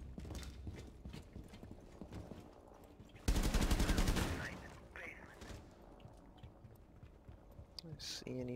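Gunfire from a match of Rainbow Six Siege on the Consulate map: one loud burst of shots about a second long, set among faint clicks and game sounds, with people talking quietly over the top.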